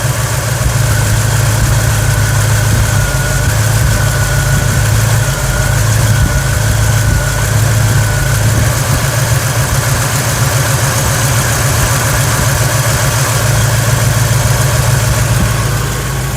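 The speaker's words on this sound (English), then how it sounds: "Let's see what the idle's at now. Yeah, it picked it up to about 850" A 1989 Chevrolet S10 pickup with a V8 engine idles steadily and loudly up close, a low, even rumble with a constant mechanical hum and no revving or talk.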